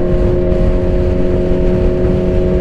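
A Suzuki Hayabusa motorcycle left unused for about three weeks idles loudly and steadily right up close, a constant deep engine drone with no break.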